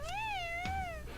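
A single drawn-out cat meow with a wavering, rising and falling pitch from a cat character in the anime game Tokyo Twilight Ghost Hunters, clear and close, with a soft click midway.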